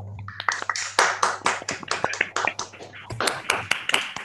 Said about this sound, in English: I request some of you at least could unmute and just clap once for Professor Antia.